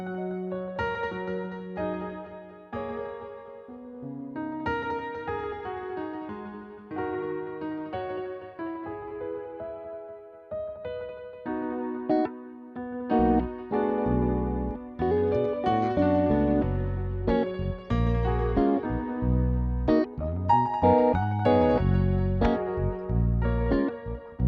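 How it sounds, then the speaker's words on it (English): Piano chords and melody echo through a stereo delay set to different timings on each side, the repeats trailing the notes before drums and bass join in the second half, with no voices. "And just throw it in a stereo delay with different timing. I think it's like eighth note and quarter note in the sides."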